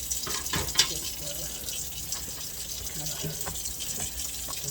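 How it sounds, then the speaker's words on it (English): Water running steadily from a kitchen tap into a sudsy sink as it is rinsed out, a continuous close splashing hiss with small clinks. "it's got a lot of suds in here, so let me just kind of wash out the sink"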